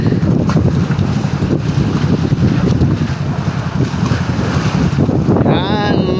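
Strong wind buffets the microphone in a steady, loud roar over choppy open water, with the rumble of a boat towing a mother boat underneath throughout.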